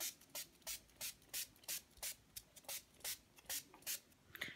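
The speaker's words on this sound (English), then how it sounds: "It says to spray 10 to 15 centimetres until it's thoroughly damp." Short bursts of LiquiProof waterproofing aerosol spray hissing onto a chair in a regular rhythm, about a dozen quick sprays close by, separated by brief pauses.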